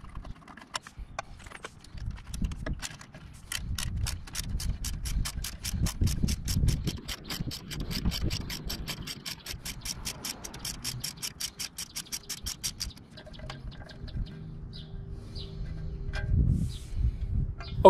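Bolts being ratcheted out of rotted backing plates on an early 1980s GM vehicle, sped up into a fast, even run of close metallic clicks with a few clanks near the end.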